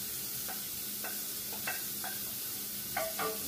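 Shrimp sizzle in a skillet for a honey stir fry while a utensil stirs and scrapes the pan in several distinct strokes over a steady, moderate frying hiss, with no talk.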